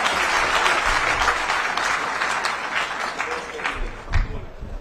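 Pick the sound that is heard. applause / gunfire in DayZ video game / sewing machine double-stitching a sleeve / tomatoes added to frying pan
applause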